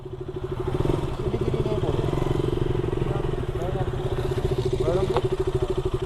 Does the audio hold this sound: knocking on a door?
no